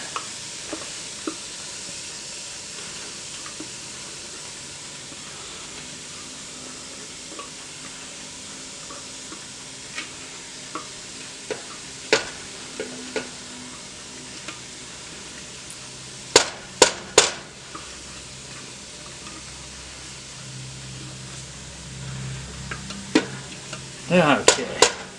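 Mushroom mix frying in hot virgin olive oil in a pan, a soft steady sizzle with scattered sharp clicks and utensil knocks, growing busier toward the end.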